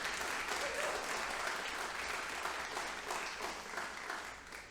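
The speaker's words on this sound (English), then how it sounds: "let's warm it up and applaud to ourselves" Audience applause at a community arts celebration, a dense steady wash of many hands clapping that fills the whole stretch and fades slightly toward the end.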